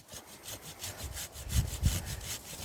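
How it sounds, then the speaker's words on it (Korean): A hand saw cuts through pine tree branches in quick, rhythmic back-and-forth strokes, about eight rasping passes close up, the last few heavier. "이렇게 밑을 톱질을 한번 하고 위에서 가지를 이렇게 쳐 내려가야"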